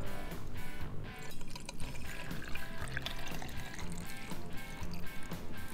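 Kool-Aid poured into a jar of pickles, a steady sloshing stream of liquid that runs dense and unbroken throughout, close and fairly loud.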